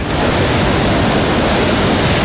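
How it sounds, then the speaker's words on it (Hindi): Water pouring from a mountain waterfall, a dense, steady roaring rush that fills the whole short stretch without a break, loud and close. "वाटरफॉल से पानी गिर रहा है"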